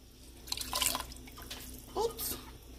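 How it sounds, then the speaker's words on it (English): Milk poured into a pot of cooked lentils, soft wet splashing and trickling in two short bursts amid quiet kitchen background. "And then I like to add a little bit of milk"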